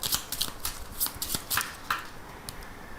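A deck of 32 playing cards is shuffled close up in quick, crisp riffling bursts, a series of short flutters and snaps over about three seconds with no talking.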